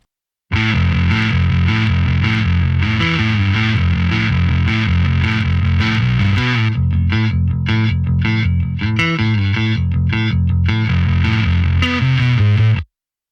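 A bass guitar plays a riff through a gritty overdrive on a Line 6 Helix, thick and loud, with the later notes more clipped and choppy before ending abruptly.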